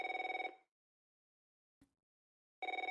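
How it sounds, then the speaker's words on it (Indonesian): Mobile phone ringing with a tonal electronic ring, one burst cut off early, a brief click in the silence, then the ring starting again, fairly near and alone. "tiba-tiba ponsel Dinda berbunyi"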